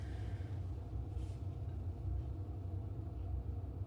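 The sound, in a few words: boiler whirring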